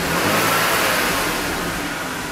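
A BMW 3 Series E-chassis engine revs up and settles, loud and close with a steady mid-pitched drone and no voices.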